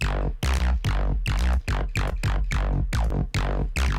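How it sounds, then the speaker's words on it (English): Bass line from a track with a reverb send, playing a steady run of about ten punchy, evenly spaced low notes, each with a bright attack and quick decay, loud and alone. "It's barely doing anything, but that's the sound of the bass"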